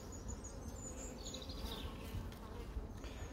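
Honeybees buzz around a brood frame lifted from a hive on a sunny day, a dense, steady, close-up drone of many wings with a few individual bees whining past.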